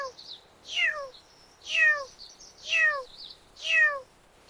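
A cat meows four times at roughly one-second intervals, each call rising and then falling in pitch, clear and close with no talking.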